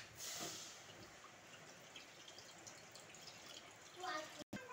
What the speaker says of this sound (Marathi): आता आपण याच्यामध्ये पाणी टाकूयात।